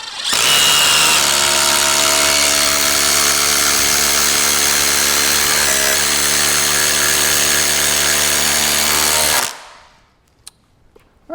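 A DeWalt 20V Max impact driver runs loud and steady at full speed for about nine seconds, its motor whine holding a constant pitch before it stops abruptly and leaves near silence.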